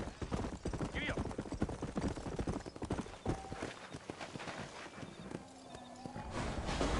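Horse hooves clip-clop in a rapid galloping rhythm in the Red Dead Redemption video game, loud and close, with a brief whinny and a voice speaking over the hoofbeats.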